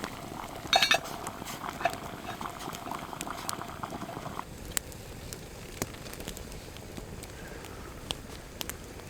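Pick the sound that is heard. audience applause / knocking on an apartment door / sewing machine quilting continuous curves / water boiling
water boiling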